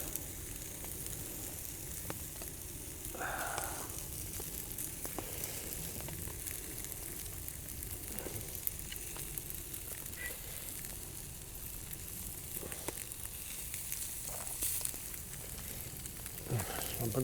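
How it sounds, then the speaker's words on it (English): Steady crackling sizzle of chicken frying in a hot pan outdoors in the woods, continuous and close, with faint occasional clatters. "There's the sizzle. There's the sizzle."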